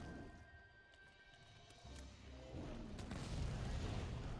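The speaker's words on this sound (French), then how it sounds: "C'est globalement une mine antipersonnelle qui va permettre de faire des dégâts bonus aux monstres au moment où on tire dessus" In Monster Hunter World Iceborne, a Wyvern Blast mine detonates. A quiet stretch of low rumble builds into heavier booming blasts that grow louder and fuller toward the end.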